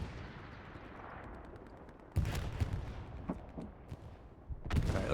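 Artillery barrage coming down on a Tiger tank in Hell Let Loose: a sharp explosive crack cuts in after a low rumble, then scattered blasts and pops follow, and a last heavy impact lands near the end.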